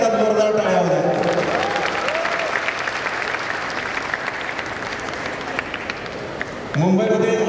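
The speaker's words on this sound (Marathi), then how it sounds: "तेव्हा या सगळ्यांच्यासाठी एकदा जोरदार टाळ्या होत्या." Loud audience applause at a college fashion show event fills the room with steady clapping, then a voice cuts in at the end.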